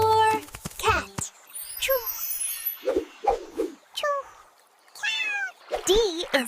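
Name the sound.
cat meowing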